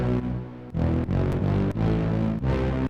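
Bass layer of a heavy brass lead patch built in the Serum synth, playing alone: thick, buzzy sustained notes in short phrases with brief gaps between chords, loud and dense with strong low harmonics.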